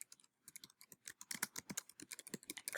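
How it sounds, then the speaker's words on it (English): Rapid keystrokes on a computer keyboard as a book title is typed, a steady run of close, crisp clicks with a brief pause near the start and no talking. "So let's type in a title here."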